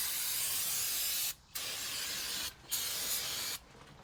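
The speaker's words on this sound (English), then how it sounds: "A little bit of brake clean." Brake cleaner sprays onto a vehicle differential in three long, loud hissing bursts with short gaps between them, close to the listener.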